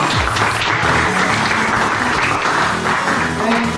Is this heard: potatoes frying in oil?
no